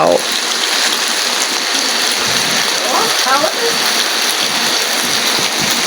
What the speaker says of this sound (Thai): ตกหนัก ๆ เลยเนอะ ฝนตกเยอะ ๆ เลยนะ